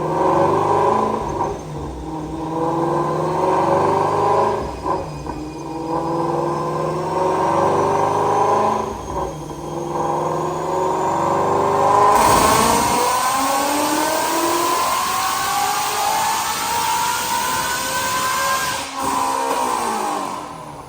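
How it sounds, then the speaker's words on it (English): A Whipple-supercharged 2019 Ford Mustang GT350 running E85 screams through a dyno pull, its engine note climbing steadily and loudly to a high-pitched peak with supercharger whine before backing off. "Check out this dyno pull."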